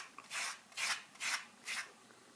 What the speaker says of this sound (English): Just let it fill all the grooves here and rub off any excess here.